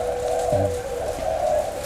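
A bird at an Indonesian bird farm gives a brief, low coo, like a dove, over a steady, noisy background hum, with no voices.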